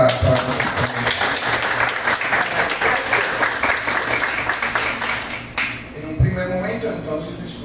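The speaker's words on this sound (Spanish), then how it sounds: "un fuerte aplauso para nosotros" Audience applause at a creative writing workshop reading, dense steady clapping for several seconds that tapers off, followed by a quieter stretch with a voice speaking.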